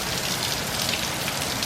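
Rain falling steadily on surfaces in Tarpon Springs, a dense, even hiss of drops heard close and continuous.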